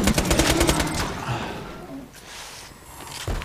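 A Hyperion SMG fires in Borderlands 2 on Xbox One: a loud rapid burst of close gunfire for about a second, then trailing off into quieter game sounds.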